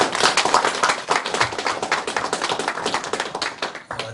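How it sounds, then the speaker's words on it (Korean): An audience at a launch ceremony and meeting held in a church gives a sustained round of hand clapping, dense and fairly close, fading slightly toward the end. "큰 박수 한번 주십시오"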